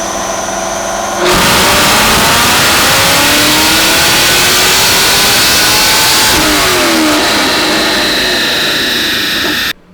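A 2017 Camaro on a dyno bursts into a loud, sustained run after a short quiet start. The engine note climbs steadily through the rev range and holds at full volume for several seconds, then cuts off abruptly.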